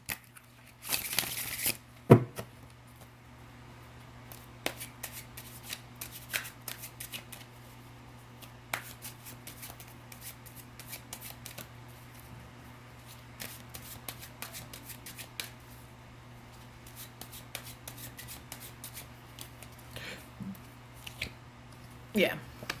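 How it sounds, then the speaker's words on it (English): A deck of cards shuffled by hand: a brisk riffling burst at the start, then scattered soft clicks and taps as the cards are handled, quiet and close. "Let me shuffle these cards"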